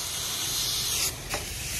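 Pesticide spray against fall armyworm misting onto sweet pearl corn in a field, a steady close hiss that drops out briefly near the end before resuming.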